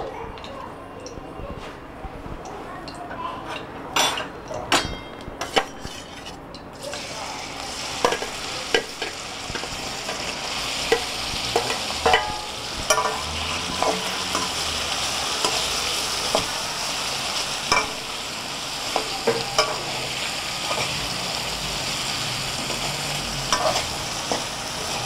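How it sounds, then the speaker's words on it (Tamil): Paneer cubes frying in ghee in a pan, giving a continuous loud sizzle with frequent spatula scrapes and taps against the pan as the pieces are stirred. "இனி நம்ம வந்து இந்த மிக்ஸ் பண்ணி வச்சுருக்க பன்னீரை இதில் ஆட் பண்ணி ஃப்ரை பண்ண போகிறோம்."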